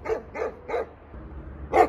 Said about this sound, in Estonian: Järgmine koer on street dog.